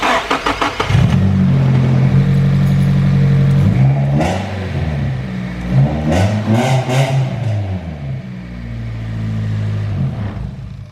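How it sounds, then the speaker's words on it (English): A Nissan 240SX with an SR engine swap cranks briefly and fires up, then settles into a loud, close idle broken by a few quick revs and slightly uneven engine note, with no voices. "I'm going to start it up now so you can hear it idle"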